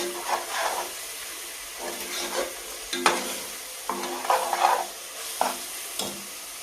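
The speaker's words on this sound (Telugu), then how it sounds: "కరివేపాకు, మునక్కాయ మిక్స్ చేసుకోవాలి." Curry leaves and drumstick pieces are stirred in a frying pan with a soft sizzle, the spoon scraping in repeated strokes, close and moderately quiet.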